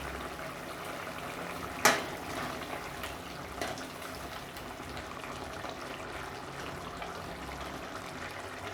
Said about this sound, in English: So I'm gonna let it simmer down to gravy